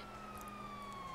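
Police siren in Grand Theft Auto V, a steady wailing tone sliding slowly downward, faint and distant under a low game background rumble.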